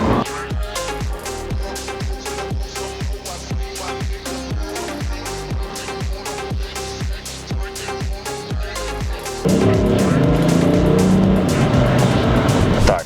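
A BMW X7 M SUV on the move, with a loud, rhythmic series of whooshing pulses like passing road features, then a denser, rougher roar in the last few seconds.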